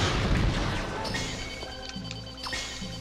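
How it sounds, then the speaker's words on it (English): An explosion in the video game Tokobots Plus: a heavy booming crash at the start that fades into a rumbling tail, with game sound effects continuing underneath. "we're not getting that mine then. It's going to explode."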